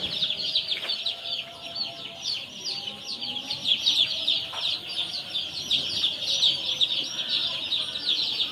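A crowd of chickens at a market clucks and chirps nonstop, a busy overlapping flock chorus held at steady loudness with a few sharper squawks standing out.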